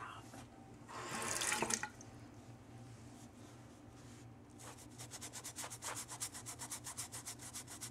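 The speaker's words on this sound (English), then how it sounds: "Literally just wet it with water and washed it off." Running water from a tap rinses chalk off a surface, a faint, close wash with a short louder gush early on, then a steady rhythmic scrubbing and rubbing pulse.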